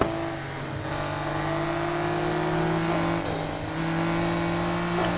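A 1997 Acura NSX engine in the racing game Need for Speed Heat revs and holds a steady high drone, pitch shifting at gear changes, loud and close with no talk.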